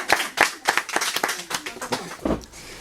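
A small audience at a bookshop event claps for the booksellers, scattered uneven hand claps at moderate distance with some voices mixed in.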